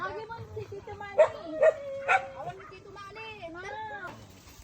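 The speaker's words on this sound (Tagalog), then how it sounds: "Pero dami aso. Ang dami aso, babe." Several dogs in a rural Philippine yard bark and yip in short bursts, with whimpery tones mixed in, close by and mostly overlapping a person's speech.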